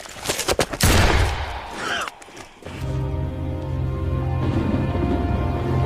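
Gunfire rings out in a World War 2 drama, a burst of sharp, loud shots in quick succession, followed by a low sustained rumble and tonal score.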